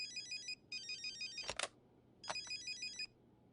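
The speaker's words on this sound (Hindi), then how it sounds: "हाँ आशा, मैं आप ही को फोन करने वाला था।" A telephone ringtone trills in rapid warbling bursts, repeating with short pauses, fairly faint in a quiet room, with a couple of brief knocks or clicks between rings.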